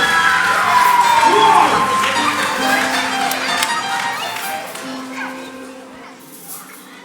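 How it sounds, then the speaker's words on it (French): An audience at a children's sing-along event cheers and applauds, with loud shouting and whoops at first, then settling into a softer crowd hum with scattered voices. "Mesdames, messieurs, les applaudissements"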